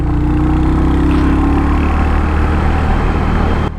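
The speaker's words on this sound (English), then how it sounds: "you can hear that deep old school kind of exhaust note that is pretty reminiscent of riding a Harley" A Royal Enfield Hunter 350 motorcycle rumbles with a deep, steady exhaust note, a continuous loud low drone that holds its level throughout with no voices present.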